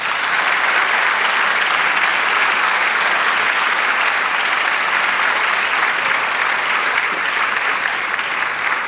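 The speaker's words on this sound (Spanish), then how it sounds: "Dale un aplauso al Señor." A church congregation breaks into sustained, loud applause during a sermon, a dense even wash of many hands clapping with no gaps, close and filling the whole space.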